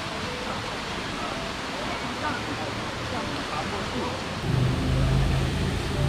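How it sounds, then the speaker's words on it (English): Broad, steady rushing water roars continuously from a waterfall close by at Mount Tamborine, with a deeper rumble swelling in toward the end. "So we definitely love chasing waterfalls, and we found a pretty good one"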